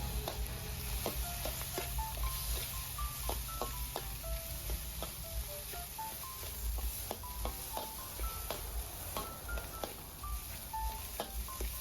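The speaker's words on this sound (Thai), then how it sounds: "ก็ผัดให้เข้ากันนะครับ" Rice with Chinese sausage, egg and soy sauce is stir-fried in a pan, a steady sizzle broken by frequent clinks and scrapes of a utensil against the metal, close and continuous throughout.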